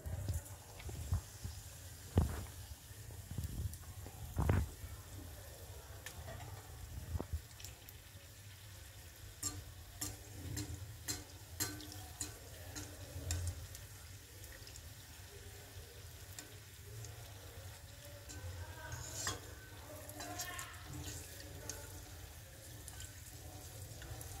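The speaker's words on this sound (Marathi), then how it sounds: "आता ही मिरची या कढईत आपल्याला टाकायची" Batter-dipped chillies for aloo mirchi fry in a wok with a low, continuous sizzle, broken by scattered sharp crackles and pops, plus a few louder clanks early on.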